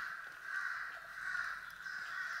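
A crow caws three times in a steady rhythm, each harsh call drawn out and clear against a quiet outdoor background on a forested hill trail.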